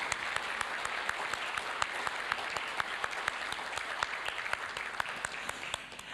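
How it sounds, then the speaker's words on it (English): Audience applause at an alumni awards ceremony, a dense, steady crowd clapping with sharp individual claps throughout, sustained and fairly close for the whole stretch. "can we please give all our award recipients one more round of applause?"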